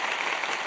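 Brief burst of audience applause, dense steady clapping from a crowd with no voices over it.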